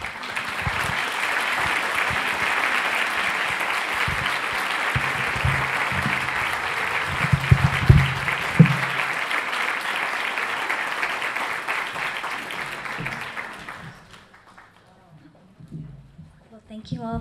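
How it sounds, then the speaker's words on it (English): An audience applauds steadily for about fourteen seconds, a dense even roar of clapping with a few louder claps and voices near the middle, then it dies away to near silence with a faint voice afterward. "just another round of applause for these amazing stories of redemption"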